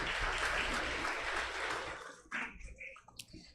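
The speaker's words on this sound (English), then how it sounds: "Please give them a big hand of applause" Audience applause for a prize winner at a college foundation day ceremony, a soft wash of clapping that fades after about two seconds into scattered quieter sounds.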